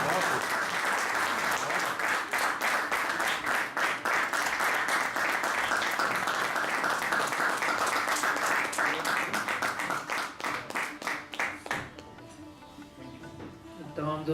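An audience at an Urdu poetry reading in Barcelona claps warmly in a sustained, dense round of applause. It thins to scattered claps near the end, with a voice speaking as it fades.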